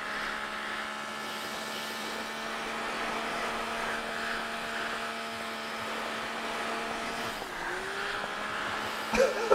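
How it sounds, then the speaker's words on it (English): A car in the PUBG video game on the snowy Vikendi map, holding a steady engine drone with tonal whine, then a pitch dip and brief tire squeal near the end. "You're drifting. I'm drifting."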